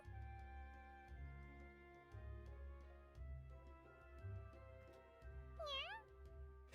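A cute cat character meows in the video game Mongil Star Dive, giving one clear rising-and-falling meow over soft looping background game music.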